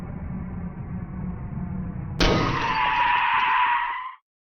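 Car in a video game driving demo on a highway: a steady engine drone that suddenly gives way to a long, loud, high tire skid, which holds for about two seconds and then cuts off abruptly.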